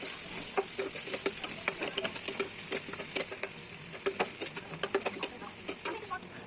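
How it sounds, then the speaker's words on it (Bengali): Chopped onion sizzles close up in a little hot oil with whole spices and dried red chilli. The frying is a steady crackle broken by frequent sharp ticks and scrapes of stirring. "ছোট ছোট করে পেঁয়াজ কেটে রাখা পেঁয়াজটা আমরা সেটাকে ভাজতে শুরু করব"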